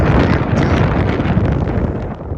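Steady, loud wind buffeting a microphone, a continuous broadband roar with low rumbling gusts throughout and no voices.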